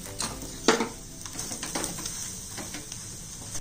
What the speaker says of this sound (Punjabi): ਹੁਣ ਪਰਾਠੇ ਨੂੰ ਅਸੀਂ ਦੋਨੋਂ ਤਰਫ 'ਤੇ ਪਲਟ ਲਿਆ, ਮਤਲਬ ਥੋੜ੍ਹਾ ਥੋੜ੍ਹਾ ਘਿਓ ਲਾ ਕੇ ਅੱਛੇ 'ਚ ਬਰਾਊਨ ਕਰਨ ਲਾਂਗੇ ਪਰਾਠੇ ਨੂੰ।